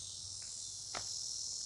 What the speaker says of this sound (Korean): 저 매미 소리 들으면 놀랍지 않아요?